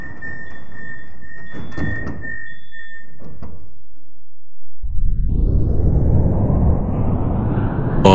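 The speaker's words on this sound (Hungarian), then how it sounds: "Please stand clear of the closing doors." Doors of a Budapest M3 line metro train close with an electronic warning chime and a thud, and then the train accelerates away with a loud rising rumble and roar that fills the car.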